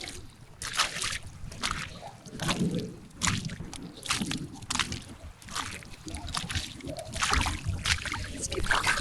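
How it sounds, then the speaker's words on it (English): A mudlarked clay pipe bowl is rinsed in water, producing repeated sloshing and splashing in uneven bursts, close by and moderately loud. "Let's give it a quick rinse."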